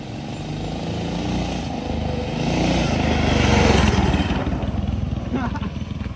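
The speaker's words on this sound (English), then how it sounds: "First test ride on the big block single-sided swing arm full suspension mini bike. Here he comes." A big block single-sided swingarm full suspension mini bike revs and rides past, its engine buzz swelling to a peak and then fading as it moves away, with voices talking over it.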